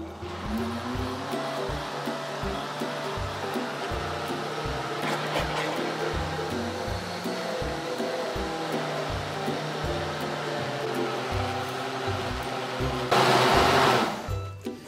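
A blender whirs steadily as it mixes pudding ingredients with powdered milk, with a regular low thumping under the motor hum that surges louder and harsher just before the end, and no talking.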